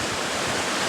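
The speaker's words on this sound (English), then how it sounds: "you can see the steam from the waterfall hitting the other side of the valley here and then coming down the river" Steady broadband rush of a waterfall pouring into a river valley, its spray drifting across to the far side, a dense, continuous roar with no voices.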